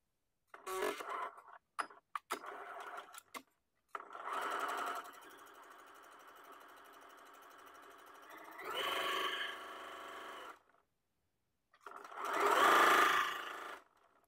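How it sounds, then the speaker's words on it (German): A sewing machine runs a straight stitch along a fabric edge in several bursts, short stuttering stitches first, then longer steady whirring runs separated by pauses. "Einmal die lange Kante mit einem Geradstich abnehmen."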